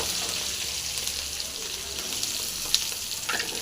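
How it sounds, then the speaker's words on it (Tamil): Onions fry in hot oil with a dense, steady sizzling hiss close by, one brief clink partway through and no speech. "இந்த வெங்காயம் நல்லா ஃப்ரை ஆகுதுங்க"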